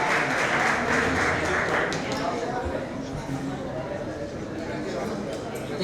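An audience at a final gala for a running circuit applauds, a busy wash of clapping that is loudest at first and then settles, with chatter and voices mixed underneath.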